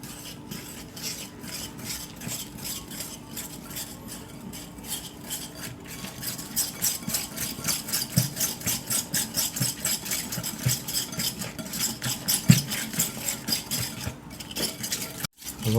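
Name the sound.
whisking cream with other ingredients in a bowl for cinnabon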